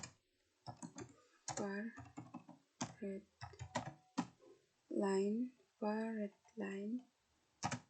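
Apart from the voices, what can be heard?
typing on a computer keyboard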